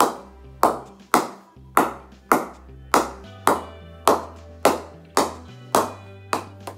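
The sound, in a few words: cricket bat being knocked with a ball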